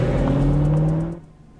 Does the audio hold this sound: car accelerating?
yes